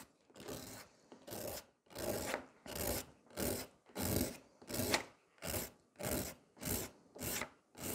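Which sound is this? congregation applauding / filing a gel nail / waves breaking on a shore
filing a gel nail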